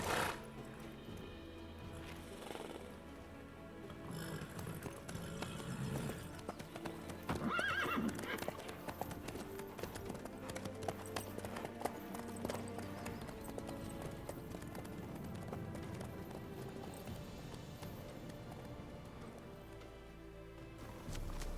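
A horse's hooves clip-clop steadily in the video game Witcher 3, with a whinny early on and soft game ambience underneath.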